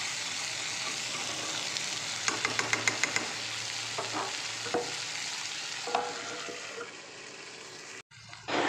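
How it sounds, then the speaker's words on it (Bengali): Prawns and onion fry in a pan while being stirred, a steady close sizzle broken by a run of quick scraping stirs and a few sharper knocks, with a brief drop near the end. "এইভাবে পেঁয়াজটাকে ভালো করে নেড়ে চেড়ে চিংড়ি মাছের সঙ্গে মাখিয়ে নিতে হবে"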